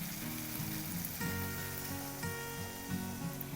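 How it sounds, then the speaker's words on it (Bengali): Pointed gourd curry sizzles in a pan as water is added, a steady broadband hiss lasting a few seconds beneath a prominent, continuous musical tone. "এবারে আমি পরিমাণ মতো জল দেবো"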